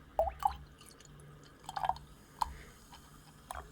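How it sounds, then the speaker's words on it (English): Drink poured from a can into a new wine glass gives soft, close splashes and drips in a few brief bursts with pauses between, faint and quiet against a low room hum. "why don't go a little bit fancy by pouring the drink into the glass like this"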